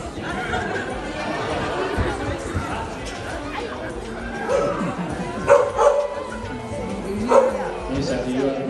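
A sheepdog barks on an Australian sheep farm during shearing: a few sharp woofs and yips rise out of a busy, noisy shed, heard under steady close talking.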